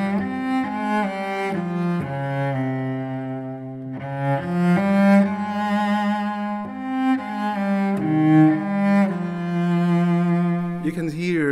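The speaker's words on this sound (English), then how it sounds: "Danny Boy on Japanese scale." Danny Boy melody played on a Japanese scale on a solo melodic instrument, clear sustained tones with slow gliding pitch changes, phrase after phrase at close range, ending with a quick ornamented flourish.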